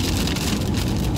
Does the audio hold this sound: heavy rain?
yes